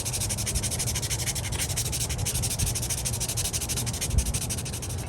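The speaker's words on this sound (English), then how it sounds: "let's take my sandpaper here. Kind of hit these rougher spots a little bit." Sandpaper rubbed by hand over rough spots on an old metal All Timer Model 549 toy drill, a steady, continuous scratchy rasp with rapid back-and-forth strokes, close and fairly loud, with no talking.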